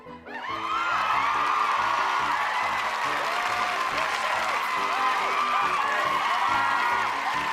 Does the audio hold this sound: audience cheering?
yes